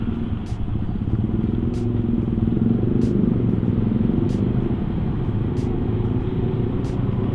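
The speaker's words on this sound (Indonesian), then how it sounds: "Selalu di sini pasti macet ya, karena jalanannya sempit ya. terus kendaraannya banyak banget." Congested traffic on a narrow road in Purwokerto, with cars and motorcycles rumbling and idling close by in a dense, continuous low drone and occasional brief clatter.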